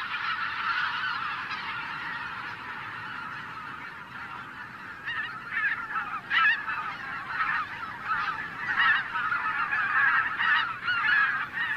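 A large flock of wild geese wintering in Belgium honks continuously, a dense overlapping chorus of calls that grows busier and louder toward the end.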